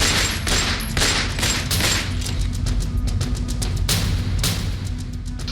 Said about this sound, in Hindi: काले लिबास पहने अतीक का बेटा असद उमेश पाल पर ताबड़तोड़ फायरिंग करता हुआ दिखाई दे रहा है